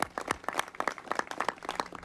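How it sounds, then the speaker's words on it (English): Audience applause for the hosts at a health care event, a dense, steady patter of many hands clapping at moderate volume for about two seconds, with no voices on top. "Let's give them a round of applause for setting this up for us today"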